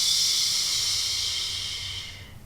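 A long, steady "shh" hissing exhale made through the lips during a pelvic floor and low-ab breathing exercise, loud and close, holding even before fading out over about two seconds.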